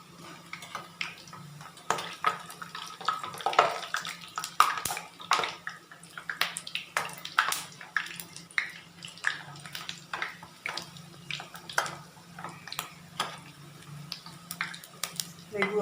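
Hot oil bubbling and crackling as pakoras fry on a medium flame, a steady close sizzle with irregular pops and spits, voices talking faintly in the background.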